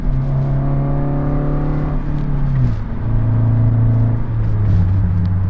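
A car engine pulls hard as the vehicle accelerates out of a double-clutch downshift, its steady loud drone rising and dropping in pitch through gear changes, with no voices over it.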